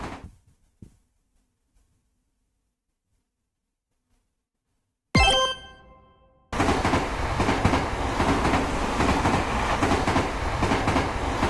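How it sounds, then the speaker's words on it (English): A cargo train rumbles past up close, a loud, steady broadband roar that cuts in abruptly after a brief squeal and carries on continuously to the end. "My, this actually a cargo train."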